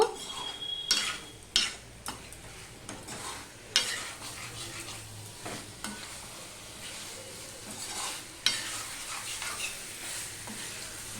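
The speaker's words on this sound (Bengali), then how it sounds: "সম্পূর্ণটা আমি মিশিয়ে আর একটুখানি কষিয়ে নেব" Broccoli curry is stirred and sautéed in a pan, with repeated sharp scrapes and clacks of a spoon against metal over a constant close sizzle, the strokes irregular and spaced a second or two apart.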